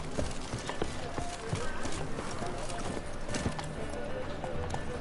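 Roach, a horse in the video game The Witcher 3, clip-clopping along on steady hooves amid busy game ambience, with a brief whinny and voices talking over the hoofbeats.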